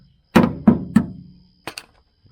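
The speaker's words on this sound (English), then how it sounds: "And use this little ball peen." Small ball peen hammer tapping dents from the metal body of a 1969 Chevy van, three firm, evenly spaced strikes followed by two lighter quick taps, close and clear with no voices.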